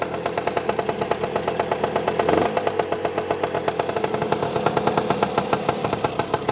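A 1959 Lambretta LI125 Series One scooter with a CASA 185cc kit idles steadily after a kick start, choke off, with a rapid, even two-stroke putter and rattly clatter, close by, with a brief surge just past two seconds.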